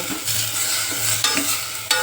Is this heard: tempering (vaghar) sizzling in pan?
yes